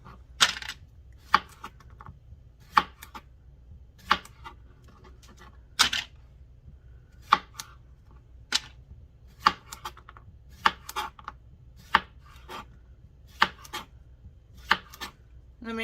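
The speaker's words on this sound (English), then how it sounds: "Just go ahead and slice those cucumbers." A knife slices cucumbers on a cutting board for pickling, with a steady series of about a dozen crisp, close chops spaced roughly a second apart over a quiet background.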